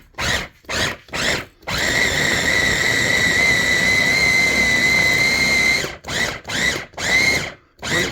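A food processor chops onion, red peppers and oregano in a sustained whirring blast of about four seconds, framed by several short pulsed bursts before and after.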